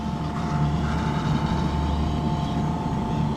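Losi Promoto MX 3s RC motorcycle at full throttle, a continuous loud, even electric motor whine holding steady and close with no pauses.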